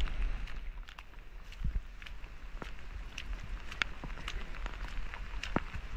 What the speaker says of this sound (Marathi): आणि पाऊस खूप आहे.